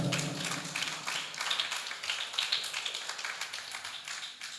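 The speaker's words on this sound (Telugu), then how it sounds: "మీకు మీరే చప్పట్లు కొట్టుకొని దేవుని మహిమపరుస్తారా?" A church congregation claps hands together in a dense, continuous patter of many overlapping claps, fairly loud and close, with no talking over it.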